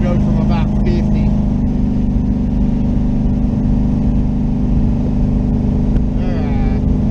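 Twin-turbo LS-swapped third-generation Camaro accelerating from about 50, a loud, steady engine drone that holds throughout with a whirring note, close and continuous, with brief voices faintly underneath.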